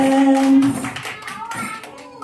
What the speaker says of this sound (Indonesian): Tepuk tangan untuk firman Tuhan